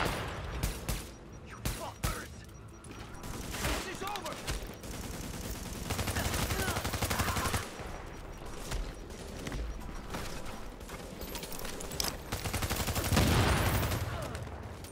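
Automated turret gunfire in The Division 2, sustained rapid bursts of shots over a dense battle din, loud and close throughout with a heavier burst near the end.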